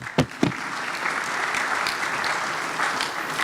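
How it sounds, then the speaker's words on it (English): Audience applause at a CEO summit in Ghana, a dense, sustained clapping from a crowd opening with a couple of sharp claps and holding steady throughout. "I thought you'd give him a round of applause."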